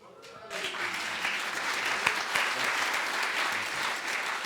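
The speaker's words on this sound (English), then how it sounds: "I knew that this generous audience would want to applaud for her." Banquet audience at an annual meeting and legacy celebration breaking into applause after a brief quiet moment, a full, steady round of clapping that carries on to the end.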